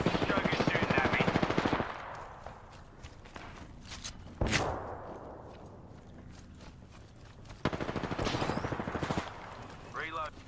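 Rapid automatic gunfire in a first-person shooter video game, with loud bursts at the start and again later, a sharp single shot in between, and a voice talking over the action.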